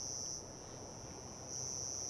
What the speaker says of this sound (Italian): È il canto del grillo gigante.